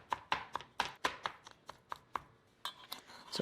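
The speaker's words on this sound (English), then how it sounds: "So now chop the cooled spinach" A knife chops cooled spinach on a cutting board for ravioli filling, with about a dozen crisp, close knocks in an uneven rhythm and nothing else around them.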